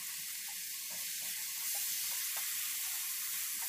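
Petai beans and small dried shrimp stir-frying in a pan, a steady close hiss and sizzle running throughout with faint clinks of stirring mixed in.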